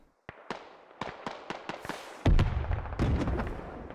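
Rocket and artillery impacts in the military shooter game Squad: a string of sharp explosive cracks and pops, some distant and some closer, ending in two heavy, booming nearby blasts with rumbling tails.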